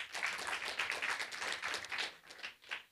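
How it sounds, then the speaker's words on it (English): Audience of staff, students and media guests clapping at a university memorandum signing ceremony in Botswana, a steady, moderately distant patter of many hands lasting about three seconds and tapering at the end. "Clap for them."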